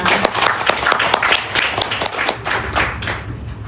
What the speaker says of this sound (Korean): 성지열 교수님께 큰 박수 부탁드리겠습니다.